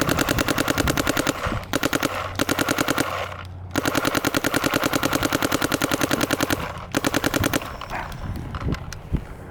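A Planet Eclipse Gtek 180r paintball marker fires rapid, evenly spaced bursts of shots loud and close, in long strings broken by brief pauses.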